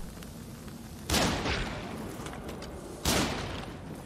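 In the video game Nioh 2, a cannon fires twice about two seconds apart, each shot a loud sudden blast followed by a rumbling decay over a noisy battle background.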